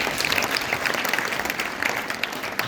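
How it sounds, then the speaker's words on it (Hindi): Brief, lively applause from a school audience at a Mental Health Day event at JNV Ambala, a crowd clapping steadily and fairly close for a few seconds. "तो इसके लिए एक बार जोरदार तालियां"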